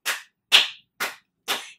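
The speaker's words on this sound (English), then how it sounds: "Let's clap our hands and stomp our feet." Four distinct hand claps with small stomps, evenly spaced about half a second apart at a children's preschool storytime, each a sharp burst fading quickly into silence, close and moderately loud with no talking.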